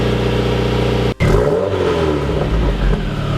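Subaru FA engine fitted with a Corsa exhaust revs loudly and steadily up close, holding a deep, raspy drone that cuts out for a split second before surging back with a throaty swell.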